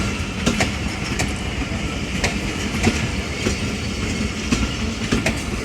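A train departs Attock City Junction, its wheels clicking over rail joints in a steady, fairly loud clickety-clack while the coaches rumble continuously close by.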